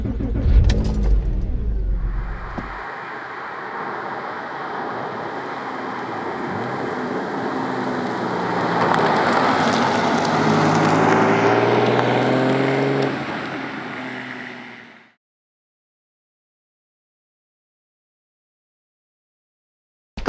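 Porsche 911 driving on back roads, a steady close engine and road drone for about fifteen seconds with a brief rattle at the start before it cuts to silence.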